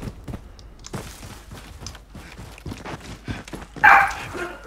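A dog barks once, loud and sudden, in Call of Duty Warzone, rising above game noise and players talking in Spanish.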